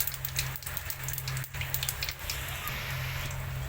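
Bay leaves, whole garam masala and cumin seeds sizzle in hot oil in a home kitchen pan, a steady close crackling hiss with a low hum underneath.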